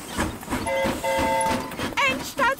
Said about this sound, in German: Elenas Zug kommt gleich an.